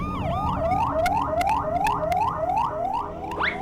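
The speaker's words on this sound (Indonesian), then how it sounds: "Minggir, ada mobil ambulans mau lewat nih." A cartoon ambulance siren wails past in a steady repeating rise-and-fall, loud and close, with a higher tone sweeping up at the end and no talk over it.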